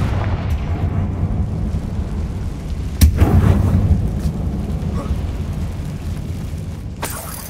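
A Confringo blasting spell explodes in the Hogwarts Legacy video game: one sharp, loud blast midway, then a rumbling decay over a steady low background drone.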